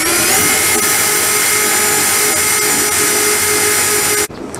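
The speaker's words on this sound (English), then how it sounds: "I like to pre-drill my holes" A power drill bores pilot holes for screws while building the hip roof of a corner shed, whining steadily at full speed for about four seconds before stopping abruptly.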